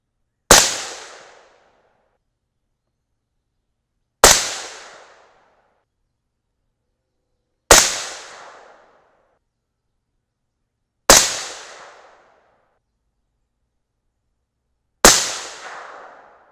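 Five .223 Remington rifle gunshots fired at a range, each a sharp loud crack with a short decaying echo, evenly spaced about three to four seconds apart with silence between.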